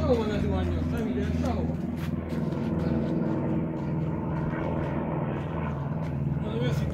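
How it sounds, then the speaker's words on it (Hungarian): Airplane passing overhead with an odd, uneven engine note, as if the throttle were being opened, a steady droning hum that sits under people talking throughout. "Hát elég fura hangja van annak a repülőnek, te."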